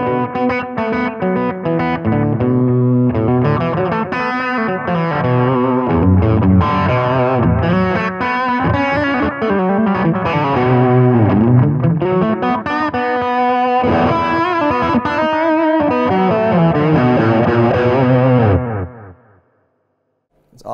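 Distorted electric guitar through an affordable analog delay pedal, playing a continuous solo-style melodic line with repeating echoes trailing behind, loud and sustained for about nineteen seconds before cutting to silence.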